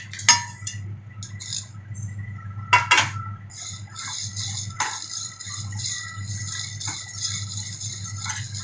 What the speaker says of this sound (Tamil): ஒரு கடாயோ தவாவோ எடுத்து சூடு பண்ணிக்கோங்க